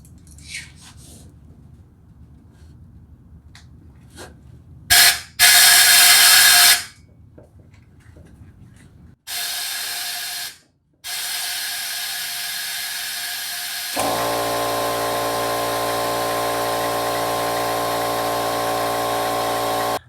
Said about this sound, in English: my compressor filled up. Let's see what it blows out.